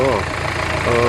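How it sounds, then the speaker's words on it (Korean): A Kia Sportage The Bold 1.6 diesel engine idles with the bonnet open, a loud steady clattering rumble with slight vibration throughout, alone without talk. "디젤이다 보니까 제법 소리가 나죠."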